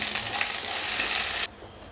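A tablespoon of ginger garlic paste frying in a pan for gongura pulao gives a loud, dense hiss and crackle up close. It runs steadily, then cuts off abruptly halfway through, leaving only low background noise.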